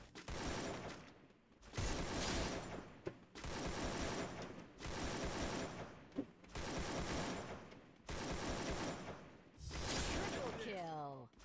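Bursts of automatic gunfire in the mobile shooter game Free Fire during a ranked match, several long loud volleys separated by short pauses, with a player's voice speaking over the shots.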